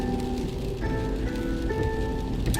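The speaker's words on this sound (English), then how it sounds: "the rain coming down the windshield and the windshield wipers going back and forth" Rain streams down a car windshield as the wipers sweep back and forth, a steady hiss of water over the glass with faint rhythmic wiper passes.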